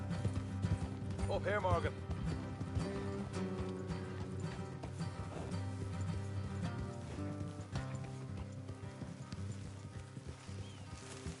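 Horses' hooves clip-clop on a road in Red Dead Redemption 2, steady and moderately near, with a horse whinny early on and someone speaking over the riding.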